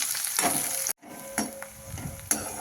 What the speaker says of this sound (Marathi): कांदा परतून घेऊ